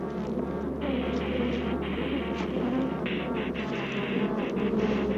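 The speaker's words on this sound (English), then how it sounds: "Killer bees will pursue a victim great distances, stinging all the way." Angry killer bees swarm in a steady, dense buzz with individual insects whining past, close and loud, over a low constant hum.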